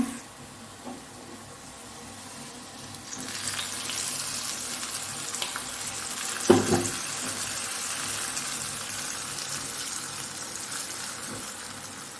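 Curry leaves tempered in hot oil and poured into an Angamaly-style mango curry, a soft sizzle that swells into a steady louder hiss with a brief thump as it goes in, then keeps bubbling.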